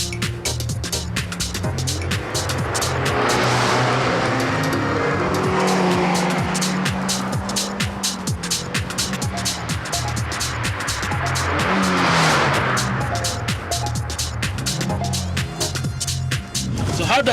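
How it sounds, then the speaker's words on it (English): A Suzuki Swift Sport is driven hard, its engine droning steadily and swelling under throttle, with tyre noise over a constant loud road roar throughout. "today I am driving the Suzuki Sport"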